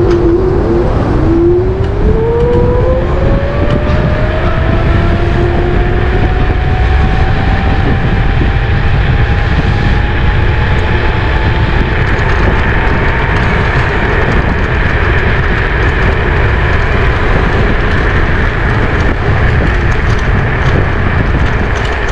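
A Kugoo G2 Pro 1000W electric scooter ridden in turbo mode, its motor whine climbing in pitch as it accelerates over constant loud wind and road rumble, with no talking.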